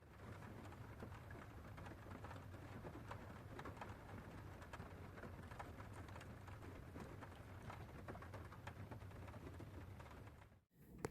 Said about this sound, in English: pissing rain outside